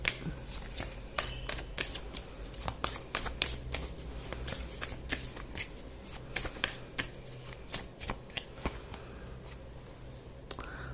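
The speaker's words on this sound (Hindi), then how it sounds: "आपका एक कार्ड और है जिसको मैं निकालूंगी।" Tarot cards are shuffled and drawn in a quiet room, with a run of soft crisp card slaps and riffles at an irregular pace, close and fairly faint.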